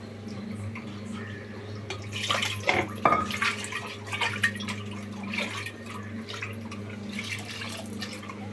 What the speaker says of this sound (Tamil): இப்போ அதில் லைட்டாக தண்ணி ஊற்றி அதை சுற்றி இதுக்கத்தெல்லாம் அலசி ஊற்றிக்கலாம்